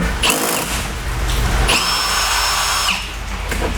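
A power driver with a Torx bit spins out a screw on a 2015+ Ford Mustang door, a loud steady whirring in two long runs separated by a brief pause, close up and with no talk.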